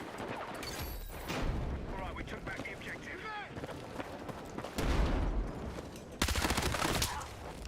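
Rapid submachine gun bursts from a P90 in a Battlefield match, several clusters of gunfire and explosions mixed with game noise, while a player talks over the action.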